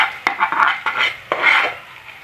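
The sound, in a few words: onions being sautéed and stirred in pan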